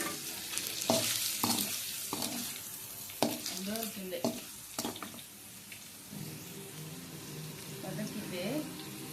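Brain sautés in a pan with a soft sizzle under repeated spatula scrapes and clinks against the metal, while a person talks intermittently.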